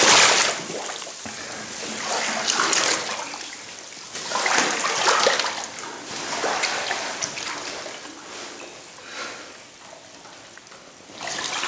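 Sloshing and splashing of someone wading knee-deep through floodwater over a muddy bottom inside a flooded, abandoned sewage treatment plant, steady and close with surges in loudness and no talk.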